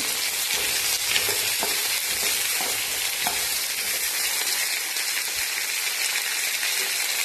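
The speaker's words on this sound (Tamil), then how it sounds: "ஒரு முருங்கைக்காய் சேர்த்துக்குங்க. நல்லா எண்ணெயிலே ஒரு கலந்துக்குங்க." Drumstick pieces fry in a wok of hot oil with mustard seeds, giving a dense, steady sizzle with occasional light clicks and soft stirring knocks, close and continuous throughout, with no talking.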